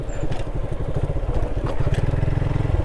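A motorcycle rides along a village route near a flooded mosque, its engine chugging in a fast, regular throb up close with some rattling and clatter.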